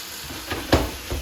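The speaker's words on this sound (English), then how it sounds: "My steak is seared and looks perfect." A steak sizzles in a hot pan, a soft steady hiss broken by a couple of brief clinks and scrapes of a utensil against the pan.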